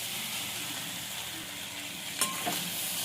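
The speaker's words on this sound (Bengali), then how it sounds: "এবার মাছের মাথা ভাজাটা দিয়ে দেবো। ভালো করে কষিয়ে নেব সবজির সঙ্গে" Fried fish head being stir-fried with vegetables and spices in a pan, a constant close sizzle with a brief sharp clatter near the end.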